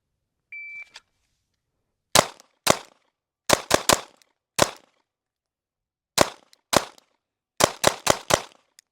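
Rapid gunshots at shooting range targets: a short electronic beep, then about a dozen sharp, loud reports in quick clusters of two and four, separated by brief pauses.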